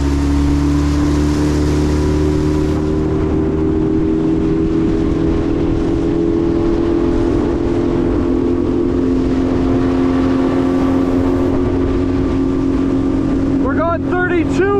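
Homemade mini bass boat outboard motor running at speed, a loud steady engine whine with strong wind and water rush close to the microphone throughout.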